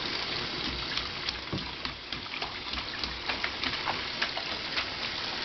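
Bathwater splashes steadily in a tub, a dense wash of sloshing with small sharp spatters scattered throughout, continuous and fairly near.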